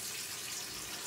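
Tap water runs steadily from a faucet into a canning jar for water bath canning of pepper relish, a continuous close hiss with no voices.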